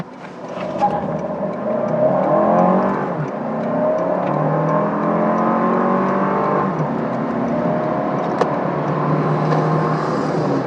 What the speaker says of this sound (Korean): 이 차 정말 스포티한 차라고 하니까 제로백 한번 테스트 해보도록 하죠